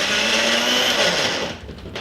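A home blender whirs steadily at high speed while blending bananas for protein ice cream, a loud, even motor drone that dips and wavers near the end as the load shifts.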